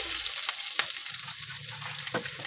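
Garlic, onion and ginger frying in a hot pan, a continuous close sizzle and crackle with a few sharp spatters and stirring clicks, no voices.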